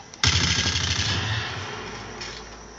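Rapid automatic gunfire from a video game played on a Datel Wildfire Evo rapid-fire controller, a loud burst of fast repeated shots starting abruptly and fading into a lingering rumble.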